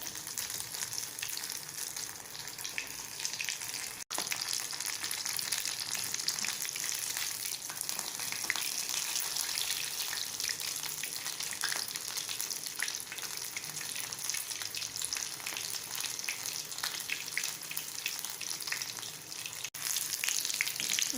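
Fish pieces fry in hot oil, one at a time, giving a continuous dense sizzle that holds steady for about twenty seconds, fairly quiet with no voices.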